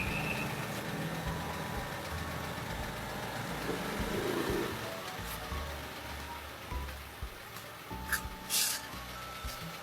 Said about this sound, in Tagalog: Pinainit ko yun ng sasakyan.